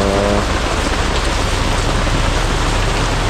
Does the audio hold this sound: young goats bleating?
no